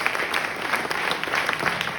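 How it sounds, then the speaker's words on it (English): Steady audience applause at a comedy show, many hands clapping in a busy, even patter that is moderately loud throughout. "Big round of applause for KP."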